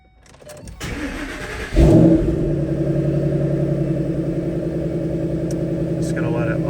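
A 2012 Ford Mustang Shelby GT500 engine cranks and fires with a loud surge, then settles into a steady, rumbling idle close by, with no one speaking over it.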